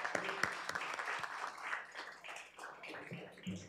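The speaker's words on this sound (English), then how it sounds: "May we give her a round of applause." Audience at an academic colloquium honouring an ambassador applauds a session moderator, a fairly quiet, scattered round of clapping with uneven bursts, heard from a distance in a hall.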